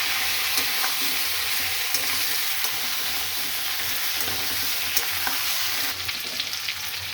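Sweet potato and green banana fry and get stirred in a pan, with a steady broadband sizzle running throughout and faint scrapes and clinks of the spoon scattered over it, no voices.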